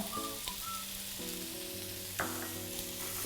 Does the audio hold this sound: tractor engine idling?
no